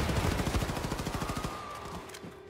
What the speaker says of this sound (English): Let's pull out the machine gun.